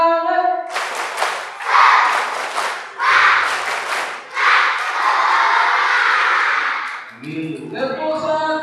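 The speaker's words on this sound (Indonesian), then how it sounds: "Tepuk 1, 1, 2, 1, 2. Semua tepuk semangat." At an Isra' Mi'raj religious gathering, an audience claps together in loud bursts led in a patterned clapping chant, with a voice speaking at the start and end.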